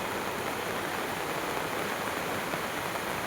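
A flooded river flows with an even, continuous rushing hiss, moderately faint and with no voices.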